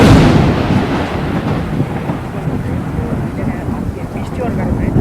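Heavy rain falls during a trip in Hyderabad, a dense, continuous roar with deep thunder-like rumbling, loudest at the start and then holding steady throughout.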